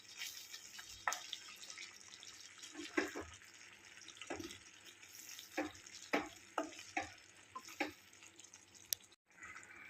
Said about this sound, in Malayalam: നമുക്കിതൊന്നുകൂടെ ഒന്ന് ഇളക്കി വെക്കാം